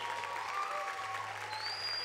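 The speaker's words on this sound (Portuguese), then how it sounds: "Aplauda forte, jovem." A large crowd of young people in an auditorium at a Catholic music concert applauds, a steady wash of clapping heard at a distance, fairly faint, with a few high tones over it.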